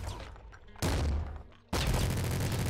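Minigun fire in the video game Nuclear Throne, three dense bursts of rapid gunshots, each cutting in abruptly, loud and close with no talk.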